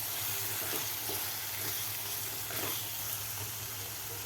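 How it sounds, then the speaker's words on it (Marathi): Fresh green peas sizzle loudly as they are sautéed in masala for an aloo gobi matar dish. The frying hiss is steady and continuous, with soft stirring scrapes underneath. "मटरसुद्धा आपल्याला खालच्या मसाल्यामध्ये व्यवस्थित परतून घ्यायचे आहेत"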